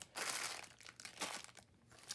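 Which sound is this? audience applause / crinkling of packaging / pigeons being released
crinkling of packaging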